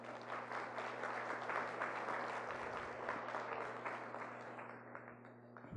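An indoor audience at a talk applauds, a dense burst of clapping that swells and then slowly fades out over several seconds.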